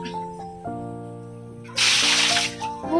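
Water is poured from a container to fill a pet turtle's enclosure at home: a brief, loud rushing splash midway, under and between voices.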